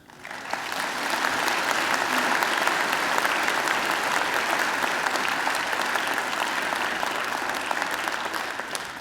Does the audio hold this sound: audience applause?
yes